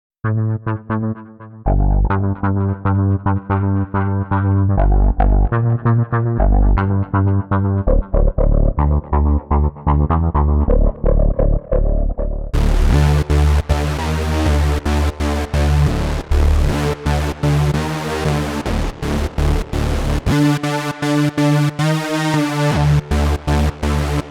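Loud Arturia SQ80 V synthesizer preset tones play in rhythmic, pulsing patterns, shifting to a brighter, buzzier rave-style sound partway through, with no voices.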